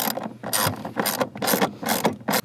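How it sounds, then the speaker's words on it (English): A hand ratchet tightening the pedal spacer bolts on a 2022+ Subaru BRZ / Toyota GR86, giving loud, close, rhythmic clicking strokes in repeated bursts separated by short pauses. "go ahead and tighten down your bolts"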